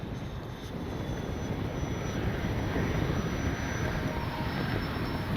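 FMS 70mm A-10 Thunderbolt II RC jet making a gear-down pass, a steady broad ducted-fan roar with a thin high whine, holding loud and close for several seconds with no talk.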